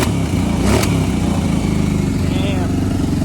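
A Kawasaki Brute Force 750 ATV engine, running quieter than before but still needing a carburetor clean, idles with a steady, loud, close low rumble and a brief noisy burst near the start.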